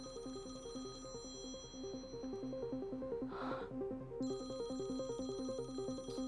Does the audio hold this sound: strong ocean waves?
no